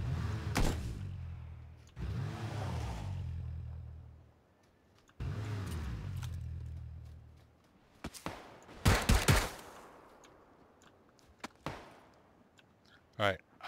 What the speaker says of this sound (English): Alright, I am getting shot at over here.